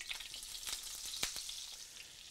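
Butter and grease sizzle steadily in a hot cast iron skillet, a faint continuous hiss and crackle with a few sharper pops and no voices.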